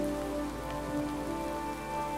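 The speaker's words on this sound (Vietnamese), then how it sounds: "Tối. Mà trời mưa." Steady rain falls during nighttime survival in the modded Minecraft world Valhelsia 3, a continuous even patter with no talk over it.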